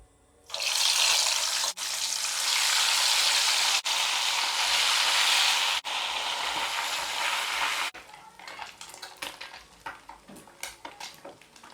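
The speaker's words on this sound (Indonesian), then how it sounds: "Ini minyaknya sudah panas, kita mulai goreng ikan." A loud, steady sizzling hiss of fish frying in hot oil starts abruptly, then settles into softer crackling and spattering.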